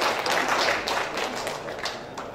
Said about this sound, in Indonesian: Tepuk tangan dulu dong untuk Camat Bogor.